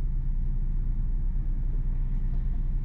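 A V6 Toyota Camry pulls away in first gear, its engine giving a steady, deep, close rumble throughout with no talking.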